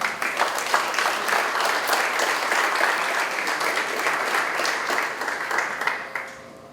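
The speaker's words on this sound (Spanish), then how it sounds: "Lo recibimos con fuertes aplausos." Strong applause from an audience at a law lecture on a supreme court plenary session, dense clapping sustained for nearly seven seconds before tapering off at the end.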